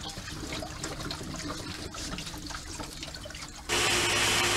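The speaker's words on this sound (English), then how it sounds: "when you backwash a DE filter, flow is reversed" Water flowing through a pool D.E. filter during backwash: a continuous rushing trickle that jumps abruptly to a louder, broadband gush near the end.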